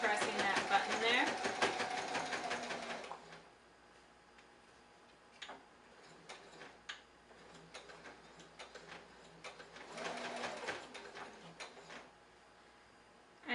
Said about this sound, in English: you want to do a back stitch when you're starting off. So forward and then back, pressing that button there.